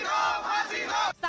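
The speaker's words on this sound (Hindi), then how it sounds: "इस बीच साकेत कोर्ट में जबरदस्त विरोध देखने को मिला।" Crowd of lawyers protesting at the Saket court in Delhi, a loud dense roar of massed shouting voices filling the clip, cutting out briefly near the end before surging back.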